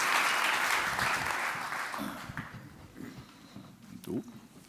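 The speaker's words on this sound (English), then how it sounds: "everybody give a big round of applause for Javier." Conference audience at WordCamp Europe 2023 applauding a speaker, a broad burst of clapping at the start that fades within a couple of seconds, leaving quiet room noise, movement and faint voices.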